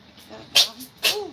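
A cat sneezes during grooming, two short sharp sneezes about half a second apart, close and fairly loud, with a brief spoken voice nearby.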